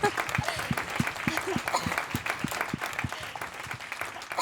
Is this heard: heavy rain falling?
no